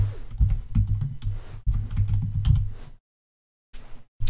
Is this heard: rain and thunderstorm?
no